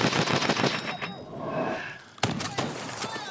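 Rapid automatic gunfire in Call of Duty: Advanced Warfare, loud bursts of close shots with a short lull before another sharp volley, with someone speaking briefly in between.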